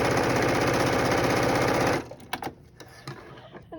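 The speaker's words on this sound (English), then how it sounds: "So we're going to stitch down this other side." Sewing machine stitching a seam on a quilt block, running as a steady, loud rapid whir for about two seconds, then stopping and giving way to faint handling clicks and rustles.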